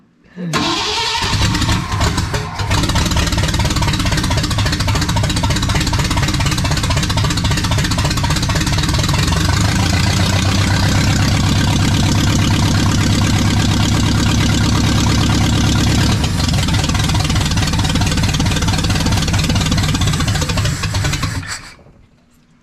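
A rebuilt, brand-new engine in a restored 1979 Ford F100 pickup cranks and fires for the first time, then runs at a loud, rough, steady idle with a rise in revs partway through before cutting off, close up.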